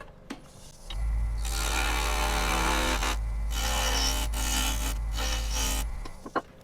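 A lathe gouge cuts a tenon on a driftwood burl, a loud steady rasping, scraping wood sound running for about five seconds with a brief dip midway and a low motor hum underneath.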